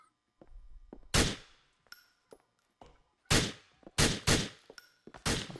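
Gunfire in GTA IV striking a wall, a series of sharp, loud shots spaced irregularly across a few seconds, with short gaps of quiet and small impact thuds between them.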